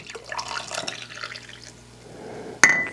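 Soft trickling and splashing of sweet fern tea being poured into a mug close by, fading down before a sharp clink of ceramic or glass at the end.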